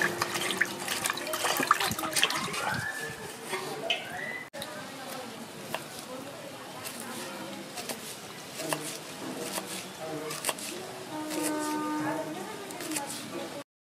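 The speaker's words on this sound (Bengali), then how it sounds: "ক্যাপসিকামগুলো আগে আমি ধুয়ে নিচ্ছি ভালো করে।" Capsicums rinsed under a running kitchen tap, with a steady wash of water splashing into a sink and some background voices and clatter throughout.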